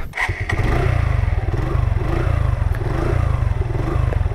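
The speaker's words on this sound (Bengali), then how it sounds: "let start the bike" A Suzuki Gixxer 155 single-cylinder naked motorcycle starts with a brief starter crank, then settles into a loud, close, steady thumping idle with a regular pulsing beat.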